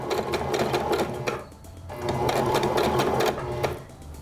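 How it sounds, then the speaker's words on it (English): A sewing machine runs a zigzag stitch across a wig weft, stitching in two steady bursts of close, rapid needle chatter with a short pause between them. "We've gone ahead and set our machine to a zigzag stitch."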